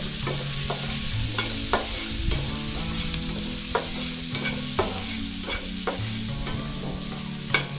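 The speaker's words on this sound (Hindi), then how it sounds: "प्याज को हमें गोल्डन ब्राउन होने तक इसी तरह से कुक करना है दोस्तों।" Finely chopped onion fries over a low flame in a pan for masala rava idli. A steady, close hiss of sizzling oil continues throughout, broken by repeated scraping and clinking from a stirring spoon.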